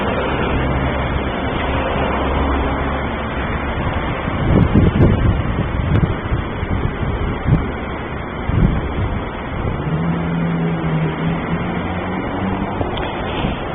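Steady, loud wind roaring and buffeting a microphone outdoors, with rumbling gusts throughout and no voices.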